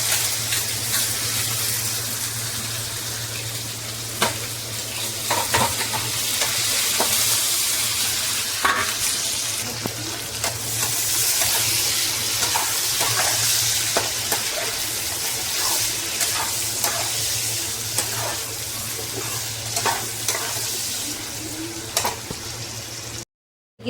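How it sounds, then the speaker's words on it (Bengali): Onions hit hot oil already seasoned with bay leaf, dried red chili and cardamom in a home kitchen, giving a steady, close sizzle and fry with scattered stirring clicks throughout, and no talking. "তেল তো গরম হয়ে গেছে, আমি তেজপাতা শুকনো লঙ্কা দিয়ে দেবো, আর দুটো আমি এলাচ দিয়ে দেবো। এবার আমি পেঁয়াজ দিয়ে দেবো।"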